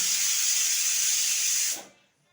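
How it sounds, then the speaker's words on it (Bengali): Mustard oil hisses and sizzles loudly as it hits a hot wok, a steady bright spray of noise that cuts off abruptly near the end. "কড়াই গরম হয়ে গেছে, দিয়ে দেবো সরষের তেল।"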